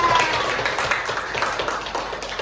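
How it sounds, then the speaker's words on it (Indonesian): A class applauding a student during a microteaching lesson, with a short burst of scattered, uneven clapping from a small group in a room that stays moderately loud for a couple of seconds. "Oke, tepuk tangan dulu dong buat Alia."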